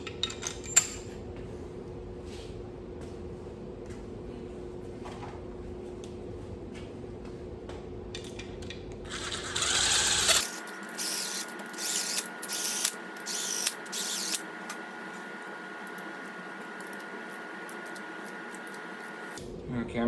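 Bolts being snugged down by hand on a Subaru WRX engine during a rebuild, heard as a quiet run of ratchet clicks and metallic ticks in short bursts, with a low mechanical hum before.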